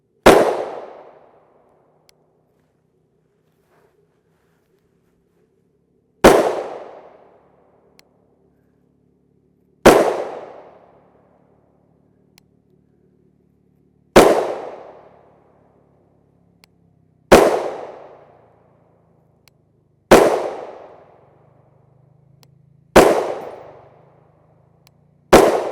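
A Glock 29 pistol with a threaded 4 1/4 inch barrel and a long compensator fires 180-grain FMJ 10mm Auto rounds: eight sharp, loud single shots, each a few seconds apart with a short ringing decay.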